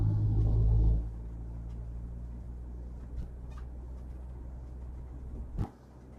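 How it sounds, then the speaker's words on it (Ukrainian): A car inside a vehicle on a Bucha driving-test route rolls slowly over a speed bump near a pedestrian crossing: a low thump and rumble at the start, then steady road drone with a couple of soft knocks and a brief bump near the end. "Це із-за того, що тут е, ось лежачий поліцейський, пішохідний перехід проїжджаємо і рухаємося прямо"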